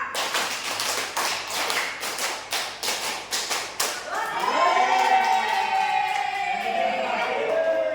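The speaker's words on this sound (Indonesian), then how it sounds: "3 kali tepuk 5" A classroom group of teachers claps out a rhythmic pattern in unison, three sets of five sharp claps in steady bursts, followed by a voice speaking over a lingering hum.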